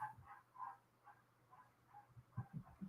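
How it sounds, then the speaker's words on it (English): A pet dog named Taco yips and barks in short, scattered bursts, faint and somewhat distant, with whimpery high notes and no talk over it. "Yep, that's my dog."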